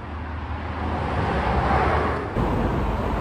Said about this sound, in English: Obviously, you can hear the traffic's quite heavy now